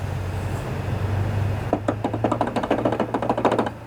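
A worn deck bearing on a John Deere LA145 riding mower, its blade wiggled by hand, gives a run of close, sharp clicking and knocking rattles after a low hum.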